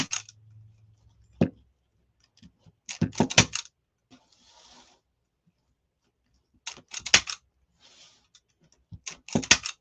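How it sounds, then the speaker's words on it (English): A handheld zip tie gun, used while making a pride wreath, tightens and snips plastic zip ties in sharp ratcheting clicks and snaps, grouped in bursts with quiet gaps between them, up close. "Zip tie gun tightens and cuts your zip ties all at once."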